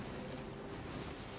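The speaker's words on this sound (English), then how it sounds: "I hear splashing" Ocean water sloshes and splashes faintly in Sea of Thieves, a soft, steady wash of sea noise with no distinct individual splashes over this short moment.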